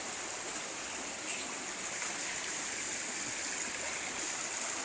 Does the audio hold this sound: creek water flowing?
yes